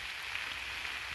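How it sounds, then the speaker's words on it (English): Heavy rain falling outdoors during a flint-hunting walk, a steady, even hiss of drops with no pauses and no voices. "Oh, heavy rain."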